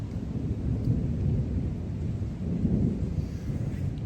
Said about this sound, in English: That's lightning striking.